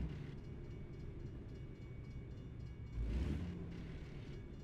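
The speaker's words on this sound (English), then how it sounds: "We got a train coming up here." A train rolls past in American Truck Simulator, a steady low rumble of rail cars that swells briefly louder partway through before settling back, heard alone at moderate volume.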